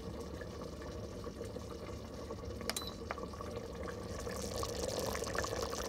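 Short rib sauce simmering in an Instant Pot just after the sauté function is switched off gives a steady, soft, close bubbling and popping with a few sharper liquid blips, and no voices.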